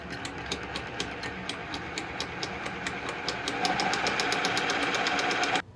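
A sewing machine zigzag-stitching the edges of bra fabric runs at a steady rapid rhythm, close and continuous, speeding up slightly toward the end before stopping abruptly.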